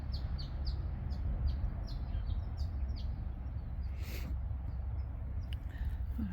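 Many birds chirp and tweet across an Australian country cemetery, repeated high calls scattered throughout over a steady low outdoor rumble, one louder call standing out near the middle.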